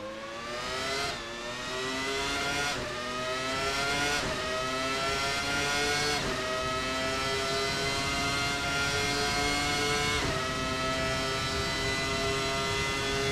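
Williams FW19 Formula One race car from the late 1990s, driven in the Assetto Corsa racing game, wails at high revs in repeated upshifts, rising steadily then dropping at each gear change, loud and continuous with no talking.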